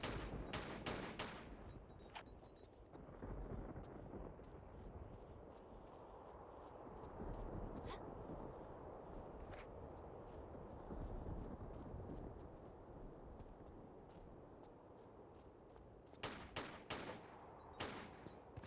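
Pistol gunfire in Tomb Raider The Last Revelation during a fight with a jackal: sharp shots crack out, clustered at the start and end with a few isolated shots between, over a steady rumbling game ambience.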